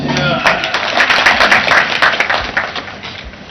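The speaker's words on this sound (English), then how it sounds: "A round of applause for her." Applause and clapping in the National Assembly of Zambia, scattered hand claps and taps from members with murmuring voices underneath, fairly close and loud.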